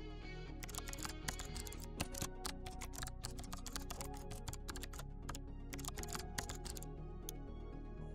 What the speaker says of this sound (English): Let me quickly type a basic C program that prints the message subscribe now.